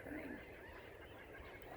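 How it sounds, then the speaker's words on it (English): Birds chatter and honk faintly in a garden in spring, soft scattered calls over a low outdoor hum. "These birds that are chattering."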